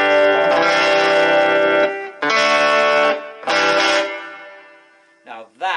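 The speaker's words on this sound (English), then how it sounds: "Now that's an overdriven natural sound." An overdriven electric guitar plays through a Winbridge T9 40-watt karaoke and instrument system, heard as three loud, sustained distorted chords separated by short breaks, followed by brief string noises.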